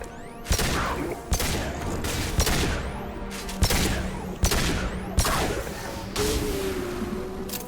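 Pistol fire in Mass Effect 2 Legendary Edition: a series of sharp, loud single shots a second or less apart over dense in-game battle noise and rumble, with a brief whine near the end.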